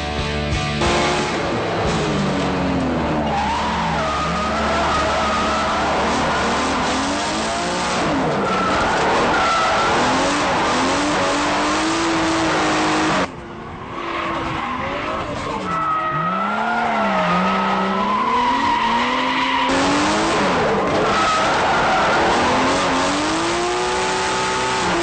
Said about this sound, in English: Bit of understeering here for David.